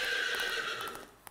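A horse lets out a single long, loud whinny that wavers and slowly falls in pitch before fading, followed by a faint click at the end.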